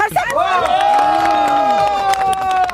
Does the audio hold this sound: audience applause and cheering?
yes